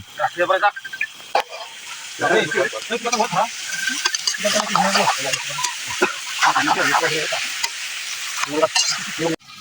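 Food fries in a pan while a spoon stirs it, giving an irregular scraping and sizzling up close, with people talking over the cooking throughout.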